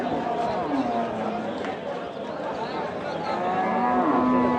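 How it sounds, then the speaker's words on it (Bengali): A native-breed cow moos at a busy cattle market during Ramadan, its long low calls rising and falling near the start and again louder toward the end, over steady crowd chatter and voices. "এখানে দেখছি আমরা একটি দেশাল জাতের গরু"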